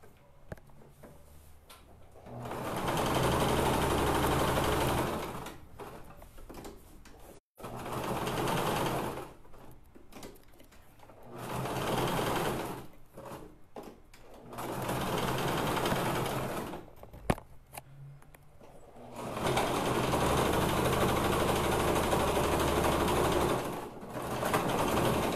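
A home sewing machine that is running a little oddly stitches small fabric scraps in several loud, steady whirring bursts, each a few seconds long, separated by brief pauses with clicks and handling noise.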